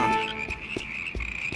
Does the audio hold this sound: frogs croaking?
yes